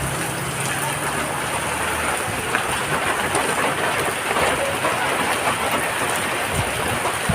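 Steady heavy rain pours down during a typhoon in Montalban, Rizal, with a continuous broadband hiss, gusts of wind swelling and rumbling beneath it throughout.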